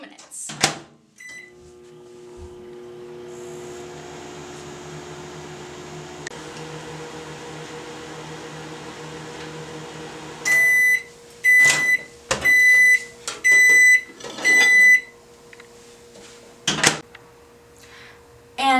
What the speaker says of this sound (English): Put it in the microwave for 2 minutes.